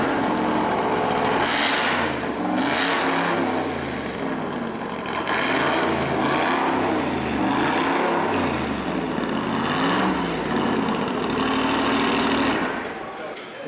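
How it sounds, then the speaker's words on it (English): A 2017 RAM Rebel TRX pickup's supercharged 6.2-liter HEMI V8 revs repeatedly, its deep growl rising and falling in loud surges, close by. "this truck knows how to make some noise"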